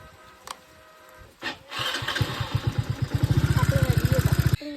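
A motorbike starts up on a rainy ride: a short crank, then a close, steady putter of engine pulses that grows slightly louder over a constant wet hiss, cutting off abruptly at the end.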